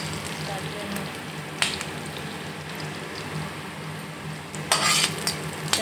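Garlic, nigella seeds and onion fry in oil until reddish, giving a steady, moderate sizzle. A few sharp clinks of a utensil against the pan break in now and then.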